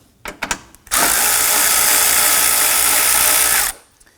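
A power driver with a socket spins out 8mm bolts holding the air intake on a Volvo XC90. A few short clicks lead into about three seconds of steady, loud, high-pitched motor whir. It stops abruptly and no one speaks.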